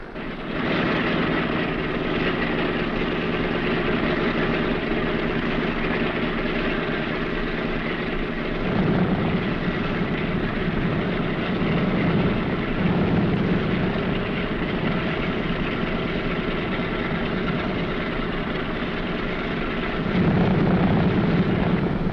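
Four radial piston engines of a B-17 Flying Fortress bomber run at a steady rumbling idle, loud and continuous throughout, with a slight rise in power partway through and again near the end, without talk.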